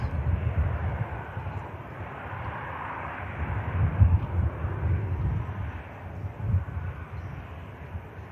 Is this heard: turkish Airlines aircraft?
yes